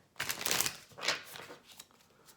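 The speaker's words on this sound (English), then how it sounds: "So I'm shuffling my Wild Untamed Animal Spirit deck right now." A Wild Untamed Animal Spirit tarot deck being shuffled by hand, two close crisp riffling bursts of card flutter followed by softer sliding and tapping of the cards, with no talk.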